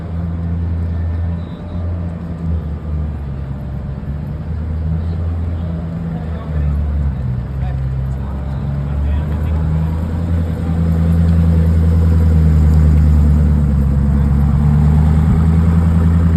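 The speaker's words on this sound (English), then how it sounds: "Luka pulling up in this sick ass sports car" A sports car's engine rumbles low as it pulls up and settles into an idle, steady and fairly close, with voices talking over it throughout.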